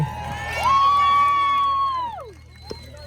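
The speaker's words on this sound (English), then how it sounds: "Give them a cheer, they're putting on a bit of a show for you." At a medieval fair fight, a crowd cheers while one voice holds a long, rising whoop that slides down and fades over a few seconds.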